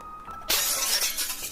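Glass shatters loudly in the horror game Pitch Black, a single sudden crash that breaks a quiet hum and trails off into scattered tinkling debris.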